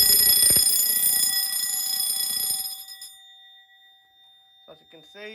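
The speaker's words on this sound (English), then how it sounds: "As you can see, it's in fire now, and you can't actually silence the fire buzzer." An Alarmtronic Series 1000 fire alarm panel in fire condition sounds a loud, steady electronic buzzer tone with rattling pulses, which fades into a thin sustained whine as a voice begins speaking.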